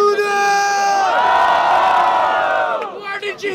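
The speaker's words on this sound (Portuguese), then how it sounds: "Mas quem gostou da rima do Henrique do RZ faz barulho" Loud crowd at a student rap battle in Guarulhos cheering, whooping and shouting together in a sustained roar that swells and then fades.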